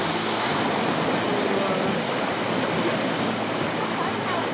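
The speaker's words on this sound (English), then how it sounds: "here we can see like a small stream." A small mountain stream at the top of Kanching Waterfall rushes steadily over rock, a dense, even roar of flowing water that holds constant throughout and is heard on its own.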